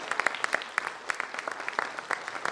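An audience claps at a business conference in Vadodara, producing a light, sparse patter of separate hand claps from a modest crowd, fairly close and without voices.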